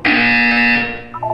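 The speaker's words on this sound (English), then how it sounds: "When you hear the buzzer, stare at the art." A loud, harsh electronic buzzer blares in the video game Portal 2, one sustained tone lasting about a second before cutting off into a short fluttering tail.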